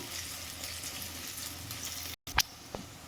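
Onions frying in hot oil in a pan for a curry give a steady close-up sizzle and hiss, broken by a short silence and then a couple of sharp utensil clinks.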